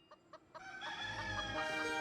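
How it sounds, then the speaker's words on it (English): Chickens in the video game Fuga: Melodies of Steel give a few short, separate clucks, then swell into a louder, steady stretch of clucking and crowing fowl, close and clear with no talking. "Shush chickens."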